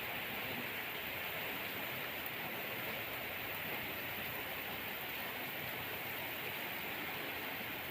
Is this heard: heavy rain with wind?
yes